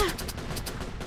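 Rapid gunfire from a CrimeCraft shooter game, a steady burst of repeated shots running throughout at moderate loudness with no talk over it.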